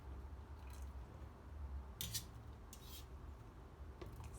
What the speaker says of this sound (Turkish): Şimdi bamyalarımızı süzgeç yardımıyla alıyorum.